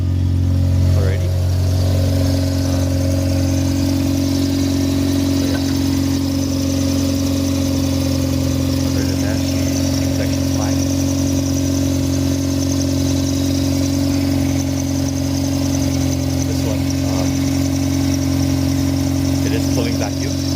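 A Mazda RX8 rotary engine fitted with a Greddy turbo idles steadily and loudly close by, with exhaust leaks and a constant low drone throughout and talking over it.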